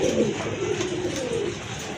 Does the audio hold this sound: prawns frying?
no